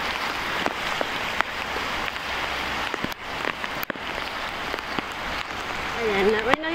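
Heavy typhoon rain falls outdoors in a continuous hiss, with scattered sharp drops and knocks. A voice rises briefly near the end.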